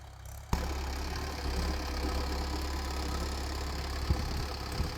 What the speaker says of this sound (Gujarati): પપ્પા બેસી ગયા છે પાછળ ને મનુભાઈ ટ્રેક્ટર ચલાવી રહ્યા છે